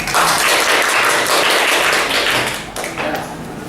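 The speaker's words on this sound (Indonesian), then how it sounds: "Ya, beri tepuk tangan." A classroom of eighth-grade students applauds, a dense wash of clapping that stays loud for nearly three seconds and then thins slightly toward the end.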